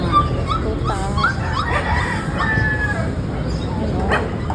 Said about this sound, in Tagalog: Cute ang mga tuta.